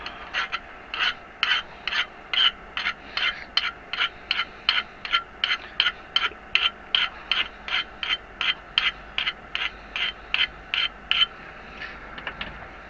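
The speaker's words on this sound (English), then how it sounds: "Maybe there's something stuck here. Let's use a file." A hand file rasps across a metal part for a DIY wind generator in about twenty-five even back-and-forth strokes, close and crisp, ending in a few quieter scrapes.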